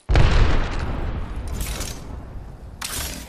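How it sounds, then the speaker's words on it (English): A grenade explodes in a video game match with a loud, close boom that opens abruptly and rolls into a long, rumbling decay. "Grenade incoming."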